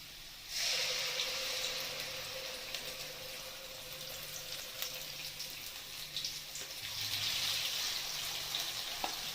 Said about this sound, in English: add the grounded and the tomato chutney paste into this oil